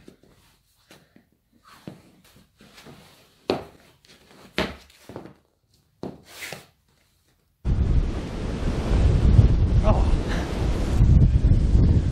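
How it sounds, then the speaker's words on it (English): Strong wind roars outdoors on a snowy day, a loud, steady broadband rush filling the second half after scattered bumps and brief talk at the start. "It's windy, it's snowy."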